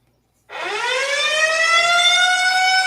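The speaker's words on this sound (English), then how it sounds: "The sirens are calling us." An air raid siren starts abruptly and wails loudly and steadily, its tone rising slightly as it winds up, heard alone.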